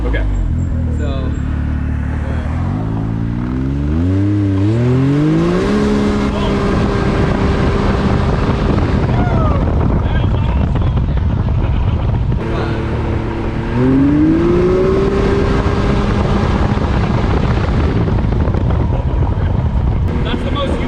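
A side-by-side UTV fitted with armor and new racing seats launches at full drive, its engine climbing sharply in pitch twice, loud and close amid heavy wind buffeting, with people talking throughout.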